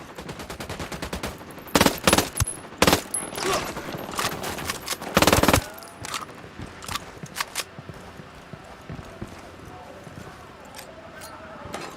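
Rapid bursts of automatic gunfire crackle through a Ghost Recon Wildlands firefight, dense volleys stacking into sharp repeated cracks, heaviest in the first half and then thinning into scattered shots.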